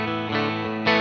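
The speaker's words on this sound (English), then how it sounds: "No, right, so here's my clean sound" An American Vintage Reissue Stratocaster with Seymour Duncan pickups, played with no pedals through a Fender-style amp emulation, rings out in sustained chords with a brief fresh strum near the end, and no talking.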